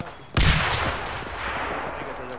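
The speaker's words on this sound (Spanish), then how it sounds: "Estoy acercándome hacia los disparos." Gunfire erupts in a 82AD Liberation video game battle, a loud burst of shots striking suddenly and then rolling on as a dense, sustained crackle of fire with no talk over it.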